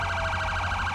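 A police siren wails loudly and steadily with no voices, a repeating up-and-down sweep from a highway patrol unit in the GTA 5 LSPDFR mod, set in Texas.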